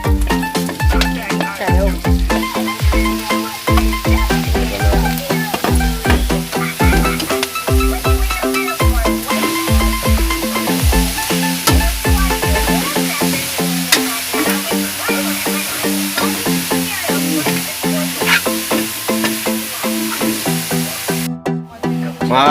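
Shrimp sautés with pork and bagoong in a hot pan, giving a continuous loud sizzle broken by rhythmic stirring scrapes that thin out toward the end.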